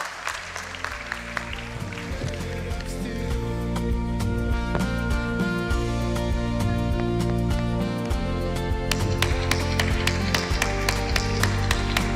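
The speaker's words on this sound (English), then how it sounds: "A round of applause as she comes." An audience at a conference opening ceremony applauds as a speaker walks up to the stage, steady dense clapping throughout with sharper individual claps standing out, moderately loud and unbroken by talk.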